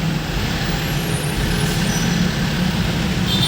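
Evening road traffic with trucks and cars on Osmeña: a constant low engine rumble and tire roar, with a faint high hiss like an air brake near the end.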